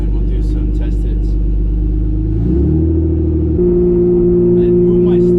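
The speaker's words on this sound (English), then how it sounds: "Alrighty, car's idling good." A turbocharged BMW E36 idles close by in a steady low rumble, and partway through the engine note shifts and settles into a slightly higher, steadier idle.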